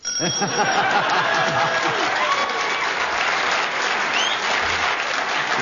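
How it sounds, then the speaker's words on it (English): A studio audience at a comedy panel game breaks into loud, sustained applause, with laughter and a few voices mixed in near the start. "Deserved round of applause, Kit."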